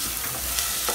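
Garlic hits a pan already frying onion and bell pepper, a steady close hiss of sizzling with faint clinks, alone without voices.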